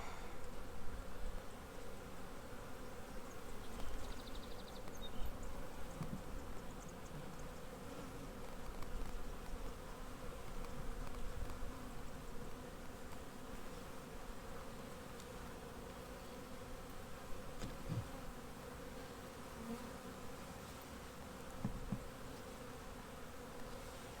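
A steady, continuous buzzing of many bees fills the whole stretch, dense and fairly close, with no voices over it.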